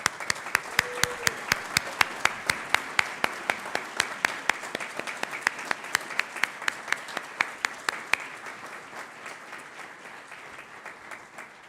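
An audience at a college awards ceremony gives sustained, steady applause, with many hands clapping at a brisk, even pace that thins out and fades toward the end.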